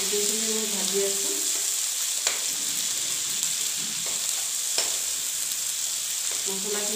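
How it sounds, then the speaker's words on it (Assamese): Ground cumin and chili powder fry in oil in a pan, giving a steady close sizzle with occasional stirring scrapes and a few brief voice-like sounds. "গোটেইখিনি মই ভাজি আছোঁ।"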